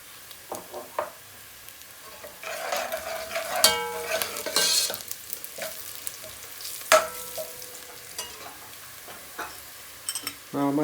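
Shahi zira cumin seeds fry in a pot with a soft sizzle, punctuated by metallic stirring scrapes and clinks of a spoon against the pot, close and moderately quiet, with brief speech nearby.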